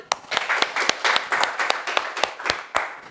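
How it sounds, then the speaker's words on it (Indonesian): Students in a school geography classroom give a short round of applause. Distinct, fairly sparse claps come from a small group in an uneven rhythm for about three seconds. "Beri tepuk tangan."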